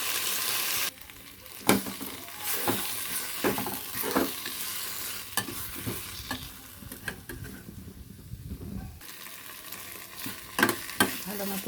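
Spices frying and sizzling in a pan while being stirred, a steady close hiss broken by repeated scraping and tapping strokes of the spoon, with no voices.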